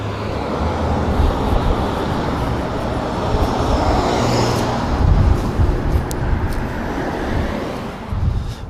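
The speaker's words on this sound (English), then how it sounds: "A lot of cars coming." Continuous roadway traffic rumbles and swishes past at moderate distance, with several vehicles surging louder mid-way, a steady low engine drone and no voices.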